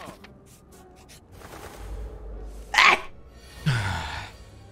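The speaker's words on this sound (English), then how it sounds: "I'm gonna sneeze." A single loud human sneeze close by, with a sharp intake of breath and then the burst, amid quiet room noise during a Slay the Spire style game session.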